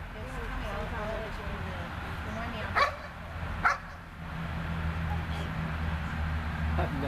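A dog gives a couple of short, sharp yips amid a noisy room, brief and moderately close, with people talking and background murmur throughout.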